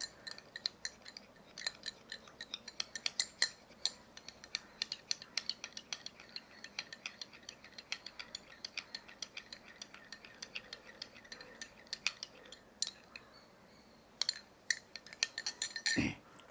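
A spoon stirs an oil mixture in a bowl for hair care, giving quiet, steady scraping with many sharp clinks against the bowl throughout. There is no talking.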